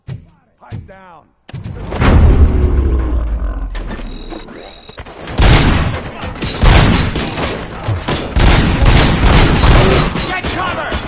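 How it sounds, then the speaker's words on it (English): Heavy bursts of gunfire in the RoboCop: Rogue City video game, loud rapid volleys with booming impacts and roaring effects, mixed with brief voices. "Am I hearing gunshots?"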